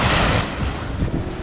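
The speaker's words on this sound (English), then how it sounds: "If you can't tell, there's like these bigger waves coming in." Ocean surf rolling in at a Hawaiian snorkel spot, a steady broadband wash of breaking waves with gusty wind buffeting the microphone, loud and continuous with no voices.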